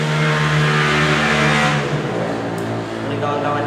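Loud motor traffic roars steadily nearby, engine drone and rushing tire noise swelling and easing as vehicles go by, with no break in the din throughout.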